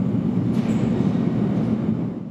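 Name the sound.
Seoul subway Line 2 train passing underground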